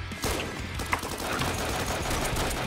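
Shotgun fire in a video game, dense overlapping blasts and rattling gunfire crowding together in a loud, continuous burst with no pause.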